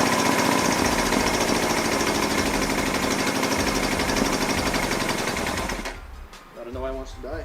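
A 1975 Honda CB200T twin-cylinder motorcycle engine runs loud and close with a rapid, steady firing chatter, then cuts out near the end, leaving quieter rattles and a few brief tones.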